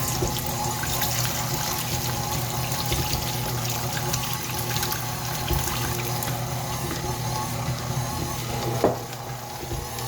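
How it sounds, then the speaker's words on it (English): Cooking liquid from a chili batch drains off in a steady, continuous pouring rush, a dense close watery hiss that holds evenly for about ten seconds with a small clunk near the end. "Drain off the liquid so we can have that reserved for our beans."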